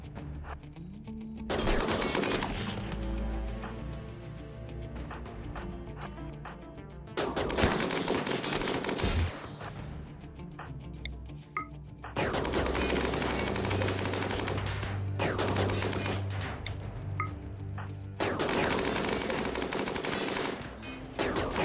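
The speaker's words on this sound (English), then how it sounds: "They're having a hard time shooting that ice." Sustained automatic gunfire in the RimWorld colony sim video game as colonists shoot at ice, dense rattling volleys in long bursts with short gaps, steady and loud throughout.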